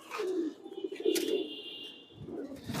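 A single pigeon, a prized bird at a Bangladeshi pigeon seller's loft, gives a short, faint, soft coo lasting about two seconds, with no talk.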